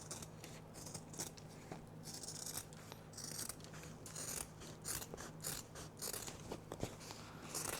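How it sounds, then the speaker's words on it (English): Scissors snip along a fabric seam of a crossbody bag in a quick run of faint, close cuts, soft repeated clicks over a quiet background. "I'll trim down that seam. Just being very careful not to cut my stitches"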